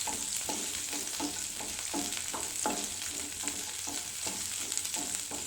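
Onion and garlic sautéing in a pan for paneer butter masala, giving a steady bright sizzle. A utensil stirs against the pan in a regular rhythm of soft scrapes, close by.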